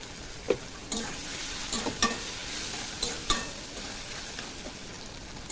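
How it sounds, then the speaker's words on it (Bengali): Onion and prawns sizzle steadily in a pan, with sharp scraping clicks from stirring every second or so. "পেঁয়াজ আর চিংড়ি মাছটা একসঙ্গে ভাজা হয়ে যাবে"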